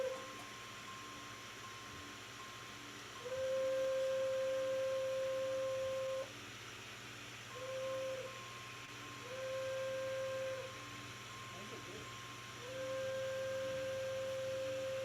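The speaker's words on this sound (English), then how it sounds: "the whistle needs to blow for the grade crossing" A train whistle sounds for a grade crossing in a series of steady tonal blasts: a long one, then several short ones, and then another long one. The blasts come over a rumbling background and no one speaks.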